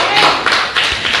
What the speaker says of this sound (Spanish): Dele palmas al Señor con toda su fuerza, porque Él se lo merece.